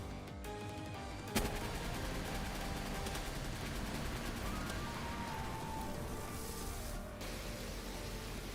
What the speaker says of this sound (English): They got freaking laser turrets!